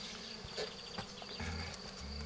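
Honey bees buzz around a Layens hive during a first inspection, a faint continuous insect hum with a few bees droning closer and away against quiet outdoor air.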